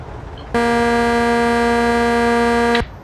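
A single loud, steady truck horn blast in the video game American Truck Simulator, held for a little over two seconds, then cut off abruptly over faint background noise.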